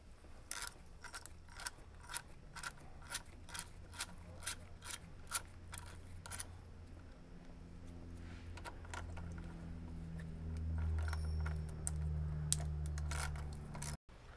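Bolts being backed out of the automatic transmission pan on a BMW/MINI, giving a long run of quick metallic ratchet clicks in rapid bursts, close up, with a low mechanical hum rising toward the end.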